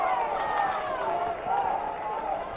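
A high school baseball crowd at a regional semifinal, Sinton fans hollering and cheering loudly and continuously from the stands, with a commentator's voice running over the top.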